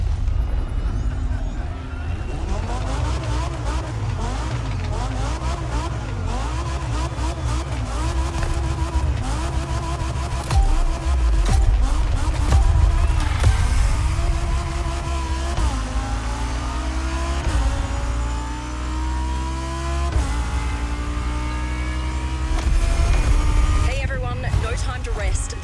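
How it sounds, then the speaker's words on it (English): Lamborghini Egoista engine in a race in The Crew Motorfest, loud revving that climbs and drops through gear shifts with squealing tires, while a voice talks over it. "So you'll be driving the Lambo Egoista for this race."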